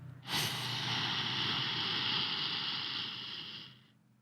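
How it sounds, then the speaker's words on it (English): A single deep, calming breath, a long steady airy exhale that swells in and holds for about three seconds before fading away, close and alone. "try breathing, if you would, like this with me now"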